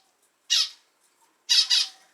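Budgerigars kept in a home aviary give sharp, close squawks: one short call, then a pause and a quick double burst, with near silence in between.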